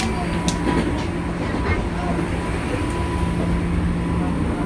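A KRL commuter electric train moves through Jakarta, its steady rumble and rolling hum filling the space from inside the carriage, broken by a few faint clicks and rattles.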